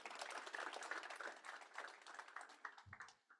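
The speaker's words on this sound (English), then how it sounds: "Round of applause." Applause from the audience at a federal health IT summit, a spread of claps that starts busy, thins out over three seconds and ends in a few scattered final claps.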